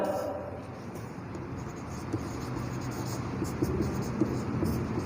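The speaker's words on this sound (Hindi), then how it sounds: "यहाँ पर लिख देता हूँ मैं" Writing on a board or paper in a lecture setting gives a faint, steady scratching with occasional light taps, close by and carrying on under the room's background hum.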